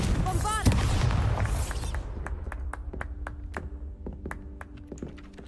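Confringo and Bombarda spell explosions in Hogwarts Legacy, heard as a loud booming blast that rumbles and fades, then a string of sharp, evenly spaced cracks over a low background.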